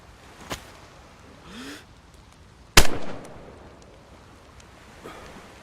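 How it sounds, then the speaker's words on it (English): Gunfire in the survival game DayZ: one sharp, loud shot cracks out mid-clip with a short rolling echo, flanked by fainter distant pops against light wind noise. "There's people shooting from over that way too"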